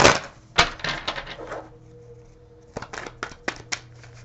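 Tarot cards being shuffled close up: a burst of quick riffling snaps, a pause with a faint hum, then several more crisp card slaps and flicks, with no talking.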